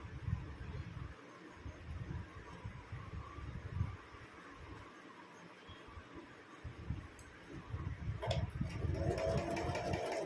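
A sewing machine stitching a kurti runs in faint bursts of rapid mechanical whirring, stopping and starting several times in a quiet room.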